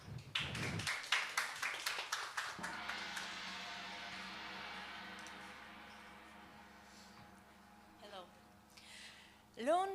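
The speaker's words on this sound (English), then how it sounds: "round of applause for RIM Nemo to present" An audience gives a round of applause for a presenter, a burst of separate claps that thins out and fades into room noise while people talk, with a few scattered sounds near the end.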